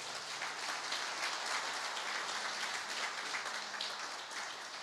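A church congregation claps together during an evening service, a continuous, fairly soft wash of applause heard at a distance with no voices on top.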